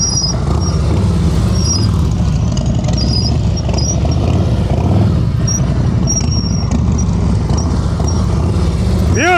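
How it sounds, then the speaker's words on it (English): Motorcycle engine during advanced slow-speed riding practice in Pennsylvania, idling with short throttle blips, a steady close rumble with faint distant tones. "Throttle blipping, baby."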